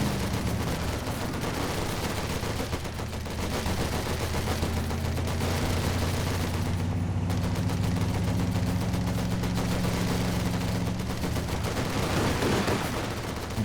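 Grease gun fire from a cavalry rifleman squad in a WC-51 in Company of Heroes 2, dense sustained automatic bursts over battle noise and a low engine drone, with no talking.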